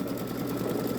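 Babylock Solaris Vision embroidery machine stitching out a garden gnome design, a fast, even mechanical chatter of the needle running steadily at moderate volume with no pauses or voices.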